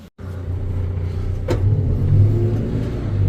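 A backhoe's diesel engine runs with a steady, low rumbling idle, fairly loud and close, with a brief click near the middle and no voices.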